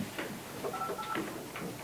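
Telephone keypad tones while dialing into a conference call at a Board of Health meeting, a short series of steady beeps over quiet room noise.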